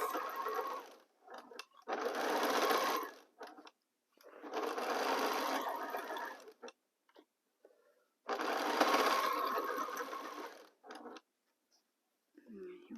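A sewing machine joins quilt rows with a half-inch seam allowance, running in three long bursts of rapid stitching separated by short quiet pauses and a few small clicks.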